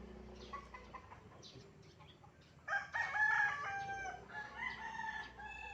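Chickens cluck in the background, then a loud rooster crow rings out close by around midway, followed by further clucking and calls.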